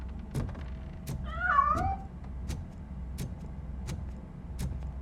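A cat meows once in RoboCop: Rogue City, a short rising-and-falling cry heard clearly over a low game ambience with steady faint ticking.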